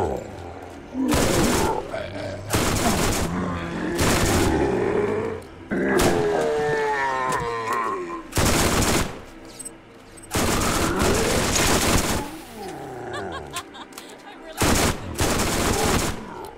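SMG gunfire in Borderlands during a zombie-infested Dr. Ned and Wereskag DLC level: loud, rapid automatic bursts repeating in several separate volleys, with creature grunts and roars between them.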